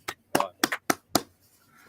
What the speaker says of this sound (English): Hey, little round of applause